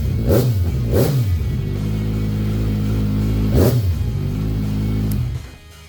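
A 2016 Kawasaki Ninja 1000 sport-touring motorcycle engine idles loud and close, punctuated by three sharp throttle blips, two in quick succession and one later, before cutting off at the end.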